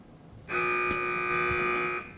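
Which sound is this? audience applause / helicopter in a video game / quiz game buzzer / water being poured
quiz game buzzer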